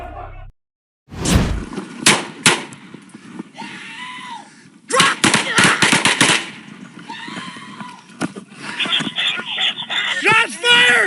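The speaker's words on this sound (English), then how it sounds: "Shots fired!" Gunshots during a police entry through the front door of a house in Rochester, NY: several sharp, loud bangs, some in quick clusters, mixed with a dog barking and whimpering, screams and shouting voices.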